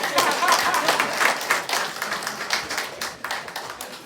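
Steady applause from an audience at a district academic excellence award ceremony in Terego, many hands clapping continuously for a few seconds without pause.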